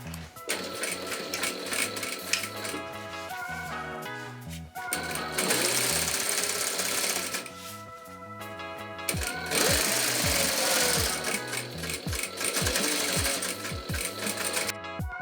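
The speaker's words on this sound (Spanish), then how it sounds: "Hacemos coincidir las puntas y empezamos a coserlo." A sewing machine stitches fabric for a bikepacking stem bag, loud rapid mechanical chattering in long bursts, broken by short pauses and clunks as the work is repositioned.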